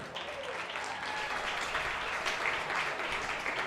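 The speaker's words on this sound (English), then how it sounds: "Let's give them a great round of applause." An audience at a Class B Region 6 baseball tournament semifinal gives sustained applause, an even, continuous patter of clapping from a crowd.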